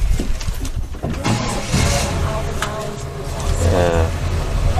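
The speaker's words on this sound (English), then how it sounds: "All right, here the engine's starting up." A shuttle bus engine turns over and idles into a low steady rumble at a national monument, with people talking over it throughout.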